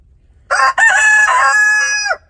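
A backyard homestead rooster crows once, loud and close: a short opening note, then a long drawn-out call that trails off, with no other sound around it.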